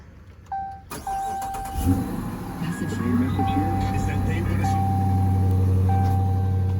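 A 2017 Corvette Z06 at a salvage auction yard cranks and fires up about a second in, then settles into a loud, steady rumble while a repeating electronic warning chime beeps over it and voices are heard briefly.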